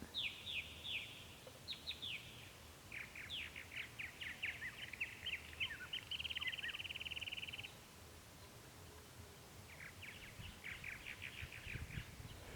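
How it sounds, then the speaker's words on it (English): Several birds chirp and trill in quick bursts, with one steady buzzing trill in the middle, against a soft rustling outdoor background. "Such lovely bird song, isn't it?"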